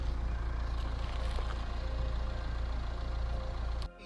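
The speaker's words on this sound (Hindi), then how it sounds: "यहाँ से आप सुनिए प्रीटी मच द सेम जैसे वो नया इंजन का साउंड होता है" A Mahindra XUV700 AX7L AWD with over a lakh kilometres on it runs its engine in a steady, even low hum. The hum holds at one level and dips briefly near the end, with no voices.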